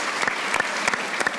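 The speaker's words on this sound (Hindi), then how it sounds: "सही अब्बास के लिए एक बार तालियां" Applause from a talk show studio audience, brief and fairly even, with a few sharper bursts of clapping standing out over the wash.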